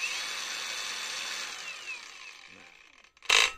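A Tanzu 20V LXT brushless cordless angle grinder whines steadily at speed, then spins down and fades, followed by a brief loud burst as it is switched on again; close and alone with no talk.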